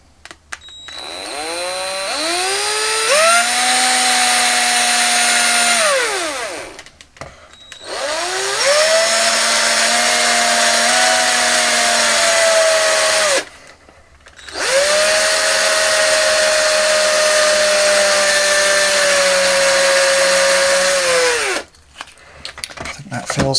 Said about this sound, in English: I'm going to drill in about the same sort of distance, so about 1 centimetre into this wing